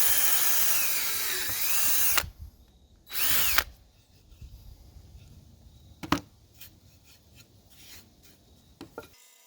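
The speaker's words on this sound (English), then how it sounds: "I drill a pilot hole first so that when I flip it over, I'll have a location" A power drill bores a pilot hole into a hickory log, loud at first for about two seconds, then a second brief burst, followed by quieter scattered tool knocks and scraping.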